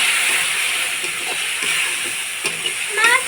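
Tomatoes and eggplant frying with spices in a pan, a steady close hiss and sizzle with faint scattered pops and clinks throughout.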